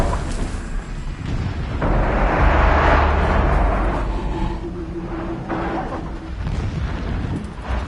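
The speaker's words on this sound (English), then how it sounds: "Explosions in the distance." Distant explosions in Horizon Zero Dawn rumble as a broad low boom that swells around the middle and fades, over continuous game ambience with no talking.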